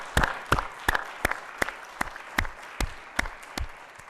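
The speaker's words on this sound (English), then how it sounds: "Let's give a round of applause for that." Hand claps at a NASDAQ closing bell ceremony, about ten sharp, evenly spaced claps in a slow regular rhythm, fairly close, with no talking.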